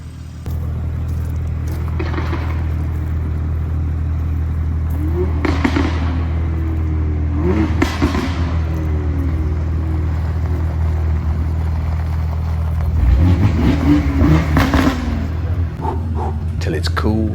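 Straight-piped BMW M2, X3M Competition and six-speed manual 335i on quiet backroads: a steady droning exhaust idle with several sharp revving bursts, a louder rising rev near the end, and voices talking over it.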